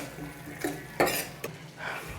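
A spoon stirs potato masala in a metal pan, with a few soft scraping clinks and taps spaced irregularly, close and fairly quiet.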